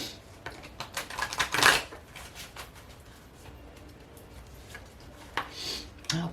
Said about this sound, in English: let's pull a couple more cards here